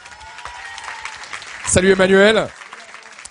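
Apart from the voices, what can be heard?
audience applause for Emmanuel Forçant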